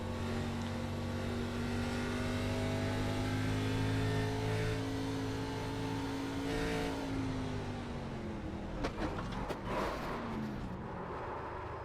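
Onboard audio from an ARCA Series stock car on an oval track at Phoenix during a wreck, with a loud, sustained engine roar and shifting revs that break into scattered bangs and clatter near the end, no talking.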